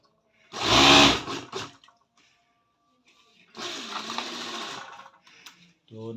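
Sewing machine stitching the side pocket of a gents kurta, two short bursts of rapid whirring stitching separated by a pause, with faint clicks and handling noise between them.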